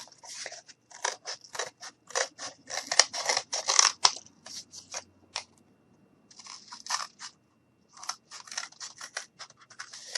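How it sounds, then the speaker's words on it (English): Scissors cut a circle out of material for a shoe bank lid, with quick close snipping in dense bursts, a brief pause and then more snips, and no talk. "And all I'm doing is just cutting this circle"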